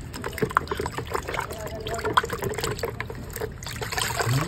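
Water splashes and trickles as a small toy helicopter is swished around while being washed, a soft, uneven sloshing close by.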